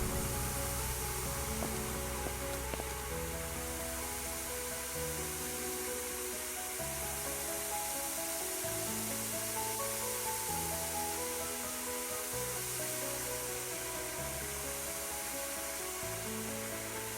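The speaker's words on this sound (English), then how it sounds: "Grab a hose and put out the fire." A fire hose in the Firefighting Simulator video game sprays water onto a fire, a loud, steady hiss of spray running continuously under a looping backing of musical tones.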